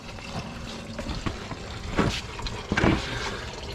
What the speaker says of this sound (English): And we're draining and trying to save the coolant